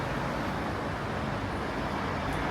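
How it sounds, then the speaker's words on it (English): Road traffic outside an apartment near a stadium, a steady broadband roar of passing vehicles, moderately loud and continuous with no distinct events. "a little bit of a traffic noise"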